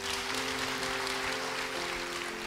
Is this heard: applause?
yes